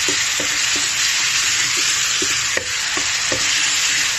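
A spicy catfish stir-fry seasoned with sugar sizzles loudly as a utensil knocks and scrapes the pan in a regular rhythm, close up with no voices.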